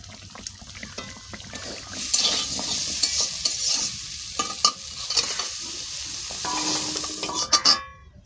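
Fish frying in a pan with hot oil, a steady close sizzle that swells after two seconds with stirring scrapes and a few sharp crackles, no talk.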